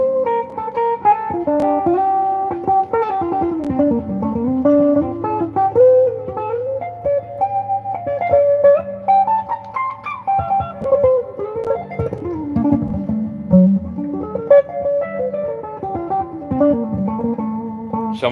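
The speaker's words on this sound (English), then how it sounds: "if you want to be a little more creative and sound more like a jazz guitar player, then you will play over the melodic minor mode" Jazz guitar improvising over the melodic minor mode, a continuous flowing line of single notes and chord stabs with winding runs, played clearly and up close without any talking.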